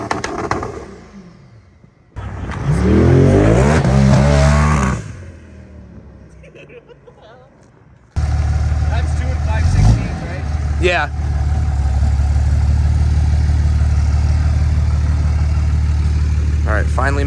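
A pickup truck's steady low engine rumble idles on, with bursts of nearby talking and a few rattles over the top.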